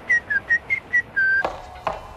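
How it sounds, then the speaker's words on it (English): A person whistles five short, evenly spaced notes and then holds a longer one, followed by a couple of soft clicks, close and clear with no talking. "All you have to do is whistle. You do know how to whistle,"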